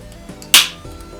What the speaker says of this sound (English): So here we go for the crack and the pour.